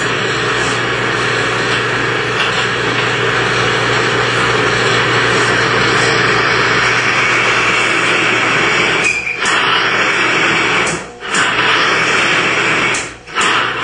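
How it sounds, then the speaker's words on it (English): A motor-driven bearing lubrication test rig runs with engine oil, giving a loud, steady, whirring mechanical drone for about fourteen seconds. Brief dips in the noise come near the end as the bearing seizes and the motor is stopped. "In just a few seconds, the oil breaks down and the bearing seizes. The motor is physically stopped."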